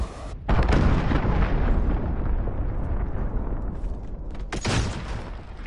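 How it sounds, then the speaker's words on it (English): Missile launch and blast in a video game: a sudden loud roaring whoosh bursts in, holding a dense rumbling boom for several seconds, then a second sharp burst swells before fading, with no talking. "missile launched."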